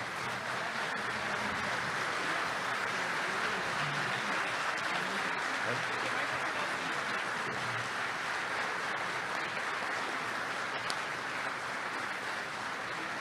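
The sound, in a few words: audience standing ovation applause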